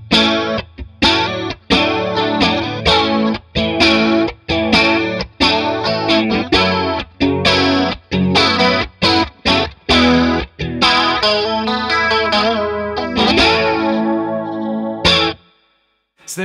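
Electric guitar played through a Boss CE-1 Chorus Ensemble with a buffer in line ahead of it, strummed chords and picked notes with a lush, shimmering chorus, loud and continuous, ending on a ringing chord that fades out.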